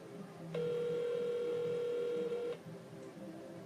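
A telephone rings over a loudspeaker in one long, steady electronic tone lasting about two seconds, then stops, leaving quiet room noise.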